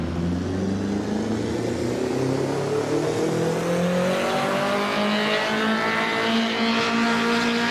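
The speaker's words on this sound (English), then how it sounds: "Now, on the dyno, we will check how much horsepower we can extract from this powerful, naturally aspirated Honda Civic" A naturally aspirated Honda Civic engine in Assetto Corsa revs steadily upward on a dyno, a loud sustained whine rising in pitch throughout, with no talk over it.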